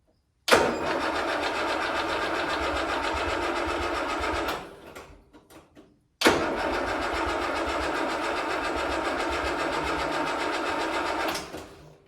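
A restored Land Rover Series 3 engine fires up for its first start, runs roughly for about four seconds and cuts out, then restarts and runs steadily for about five more seconds before stopping, loud and close.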